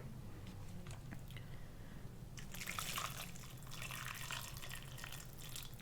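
Hot broth poured over a bowl of pho, a soft splashing liquid pour that swells midway and continues steadily, close and fairly quiet, with no talking.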